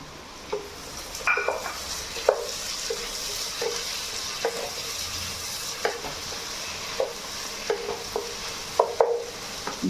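Sizzling and stirring in a frying pan as tomatoes go in for a home-style Kerala chicken biriyani, with a steady fry hiss under repeated sharp clinks and scrapes of a spoon against the pan, close and alone.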